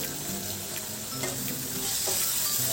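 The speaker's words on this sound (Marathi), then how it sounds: "तो देखील आपण छान परतून घेणार आहोत." Finely chopped tomato sizzles in a hot pan, a dense continuous frying hiss with a few light stirring clicks, close and steady for a few seconds with no voices.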